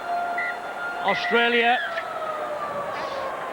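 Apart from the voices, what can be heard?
half-time siren at rugby league World Cup match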